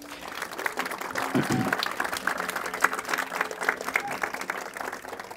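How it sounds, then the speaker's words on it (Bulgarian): An audience at a rooftop party gathering applauds to welcome a guest, a sustained crackle of many hands clapping at moderate distance, with a brief voice and a few whoops mixed in. "да посрещнем Кирил с аплодисменти"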